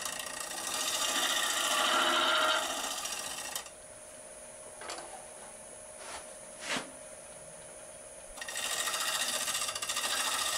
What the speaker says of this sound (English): shear scraped the bottom just to clean it up